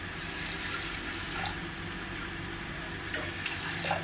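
Water is poured into a pressure cooker over sago and vermicelli, making a steady, close, hissing gush with no pauses and no talking.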